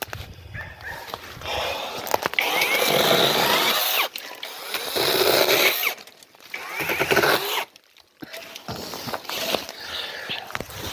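A chainsaw roars in bursts, revving and cutting thick branches with short pauses between cuts, loud and close.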